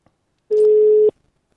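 A single ringback tone of an outgoing telephone call, one steady beep lasting about half a second, clear and close, set within silence.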